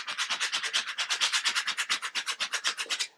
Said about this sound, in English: You burnish it down.